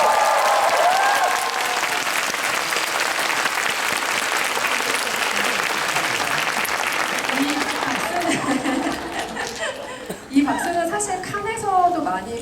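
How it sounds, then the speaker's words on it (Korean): An audience at a live talk event for the film Parasite applauds the film team with loud, dense clapping that fades after several seconds as a host starts speaking over the dwindling claps. "한국 관객들이 쳐주시는 박수이기 때문에 조금 남다른 박수일 것 같고요"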